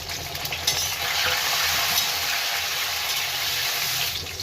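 Onions and tomatoes fry in a pan with a steady, close sizzle, joined by stirring scrapes and a watery hiss that holds evenly for a few seconds, with no one talking.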